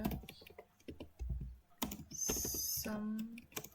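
Linux shell commands are typed on a computer keyboard in a series of quick, light key clicks, close and moderately quiet, followed by a brief high-pitched beep-like tone and a few more scattered taps.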